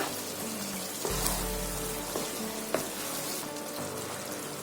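Mutton roast sizzling as its gravy reduces in a pan, a dense continuous crackling hiss with a few stirring scrapes and clinks, close and steady throughout.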